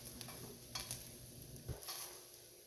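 Garlic sizzling softly in a pan while being stirred for beef lo mein, a quiet frying hiss with a few light utensil scrapes and taps, close by and without speech.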